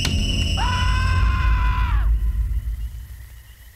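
A man's scream in the film Kill Crazy, one drawn-out wavering cry lasting about a second and a half and then falling away, sounding distant over a steady background rumble.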